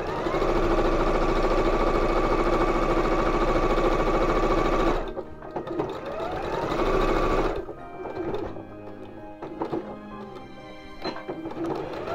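A sewing machine stitching a French seam runs at a steady, loud, continuous whir for about five seconds, pauses, briefly restarts, then gives way to quieter handling sounds.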